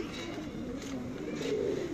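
Soft, low pigeon cooing rolls on continuously at close range, a Sialkoti breed bird, with steady background noise and no talk.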